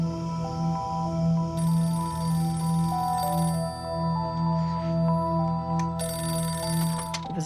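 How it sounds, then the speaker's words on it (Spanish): A telephone rings in the middle of the night, a steady repeating electronic ring pattern that continues for several seconds with a low hum beneath it. "Sonó el teléfono."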